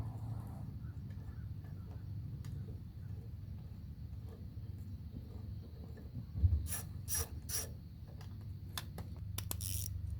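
A self-tapping screw is being worked out of a Ford OBS truck tail light with a hand tool, giving quiet, sparse mechanical clicks and a few scraping ticks over a low background hum.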